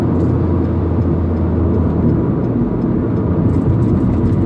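A Proton Iriz 1.6 with a manual gearbox cruising on the road, with a steady, loud low engine drone and road rumble running continuously throughout, with no talking.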